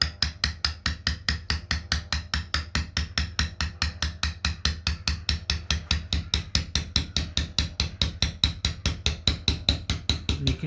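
A hand-held chisel struck hard with a mallet while carving slate, steady rhythmic sharp taps, about five per second, close and clear with no talking.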